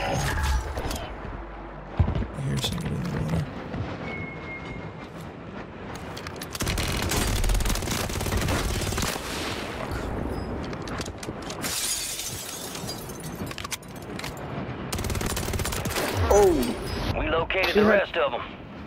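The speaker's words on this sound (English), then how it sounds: "Who's he shooting at?" Gunfire and combat sounds in Warzone 3, with sharp bursts and crackling volleys that come and go among mechanical clatter over nearly twenty seconds, mixed with game voice lines.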